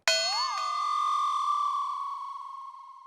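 A phone rings with a single bright electronic ding that strikes sharply, wavers briefly, then rings on as a steady tone, slowly fading over about three seconds with no voices.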